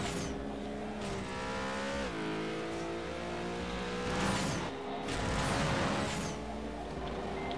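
Small car in the video game Jet Cars Stunt, its engine droning and revving steadily throughout, with pitch climbing and dropping through gear shifts and a rougher burst near the end, loud and continuous.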